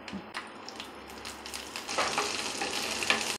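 Red onions sizzling in a pan of oil alongside grated coconut and curry leaves while cooking Kerala kadala curry, a steady close frying hiss that grows louder partway through, with light stirring clatter and no talk.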